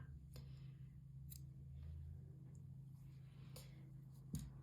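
Scissors snip away stray loops and long ends on a handmade Summer Breeze cushion, giving a few faint, sharp clicks spaced through a quiet, low-humming room.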